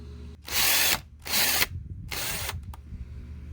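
A power drill whirs in three short bursts while drilling into a golf cart battery terminal, each grinding for about half a second with brief pauses between, close and fairly loud.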